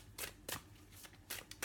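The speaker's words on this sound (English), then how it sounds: "I'm going to shuffle these to see if the same cards come out" Tarot cards being shuffled by hand, a few quiet, brisk riffling bursts in an irregular rhythm, close up and soft with no talking.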